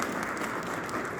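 An audience applauds during the Santa Fe State of the City 2023 address, a brief, even burst of many hands clapping at moderate distance without speech.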